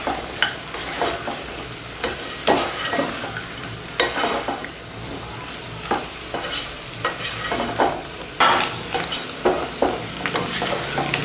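Pepper chicken with coriander leaves and curry leaves being stirred in a pan, with a continuous sizzle and repeated scraping strokes of the spoon. The sound is close and steady, with no talking over it.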